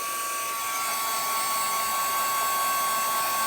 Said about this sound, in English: Let's just blast this very quickly. I know that's annoying for you guys, but let's just start to dry some of that gel off.